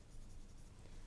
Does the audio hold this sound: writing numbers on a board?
yes